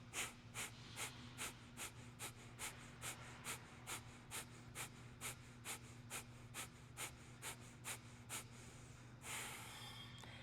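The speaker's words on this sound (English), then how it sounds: "We are going to do a little bit of like Kapalabhati breathing, getting ourselves like energized" Kapalabhati breathing during a core power flow class: about sixteen sharp, forceful exhales through the nose in a steady, quick rhythm, close and clear, ending in a longer breathy rush.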